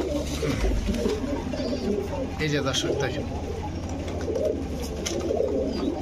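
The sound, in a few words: pigeons cooing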